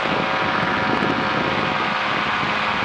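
A light aircraft converted to run on a Yamaha Phazer snowmobile engine flies with the throttle pulled back, giving a loud, steady engine and propeller drone with wind noise that fills the cabin and has no breaks.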